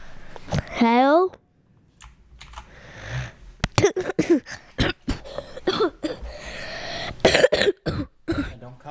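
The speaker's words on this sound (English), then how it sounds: "Don't cough in the microphone" A sharp cough close to the microphone, followed by keyboard clicks and people talking.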